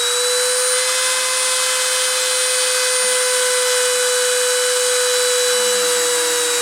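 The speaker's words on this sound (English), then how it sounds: "I'm going to spin up the spindle and start the deposition." A deposition machine's spindle spins up, giving a loud, steady high-pitched whine with a constant tone and a broad hiss beneath it, close and sustained without pause.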